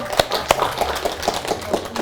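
A few people clap briefly in a studio after a song, with sharp separate claps at irregular spacing over a low background and murmuring voices.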